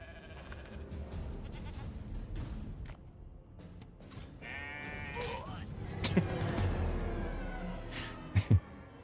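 Sheep bleating in the fantasy role-playing game Divinity: Original Sin 2, a few wavering bleats over a steady game ambience with faint thumps and a couple of sharp knocks near the end.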